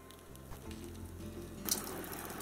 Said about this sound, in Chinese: 要用小火慢慢的煎，一定要把它煎透